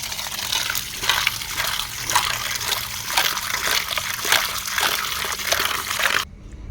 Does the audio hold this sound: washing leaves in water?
yes